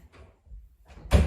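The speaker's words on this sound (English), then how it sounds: "I'm just going to close this door" A door being shut in a medical assessment room: after a few faint shuffling sounds, one close, solid closing thud with a brief low rumble.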